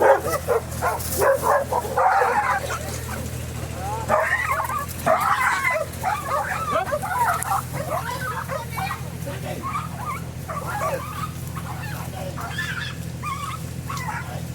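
Several aggressive dogs attack a German shepherd in a forest, yelping, whimpering and barking close by, loudest at first, with people talking in Portuguese over the commotion.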